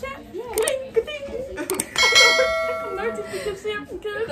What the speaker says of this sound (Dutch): druk op het belletje. Klink, ding.